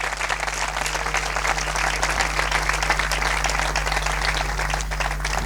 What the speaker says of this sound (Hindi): जोरदार तालियां खुदावंद यीशु मसीह के लिए।